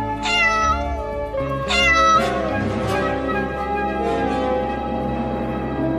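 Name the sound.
cat meowing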